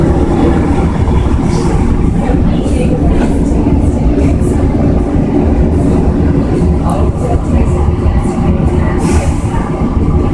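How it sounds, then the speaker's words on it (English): Phoenix Sky Train, an automated airport people mover, pulls away from the station with a loud, steady rumble and rolling rail noise, faint clicks over the top, and a voice on board briefly heard beneath it. "This train is departing for the Terminal 4 station with shuttles to Terminals 2 and 3."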